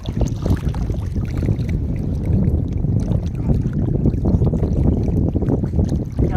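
Wind and waves buffet a small boat on open water, a loud continuous rush of gusts over the microphone with sloshing, rocking movement and no voices.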